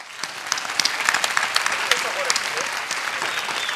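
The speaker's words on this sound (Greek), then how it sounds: "Άλλο ένα χειροκρότημα," An audience at a Cretan mantinada and folk dance cultural event applauds with steady, dense clapping that swells and holds throughout, with a host's voice speaking over it.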